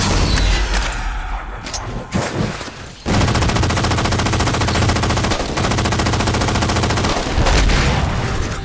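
Sustained automatic gunfire in the Halo 4 video game, loud and continuous bursts with a brief lull before a heavier barrage that rattles on without pause.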